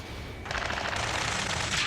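Rapid automatic gunfire crackles through an Ace Combat 7 ground battle during a rescue mission, sustained bursts of machine-gun fire starting abruptly and continuing loud and dense without pause.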